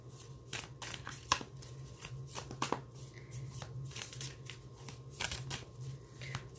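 Oracle cards are shuffled by hand in a quiet room, giving a run of soft, quick papery riffles and slaps, close by and fairly faint, with no talking.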